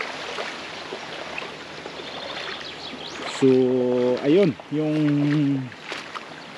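Floodwater pours over a small dam spillway during heavy rain, a steady rushing wash of water heard throughout, partly covered by someone speaking close by in the second half.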